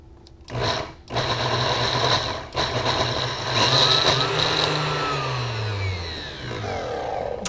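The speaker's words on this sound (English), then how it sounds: "If you've got the food processor, it may go a little faster for you." A food processor blends edamame hummus, its motor whirring loud and steady in close bursts that rise and fall in pitch as the blades work through the thick green purée, with brief pauses between runs.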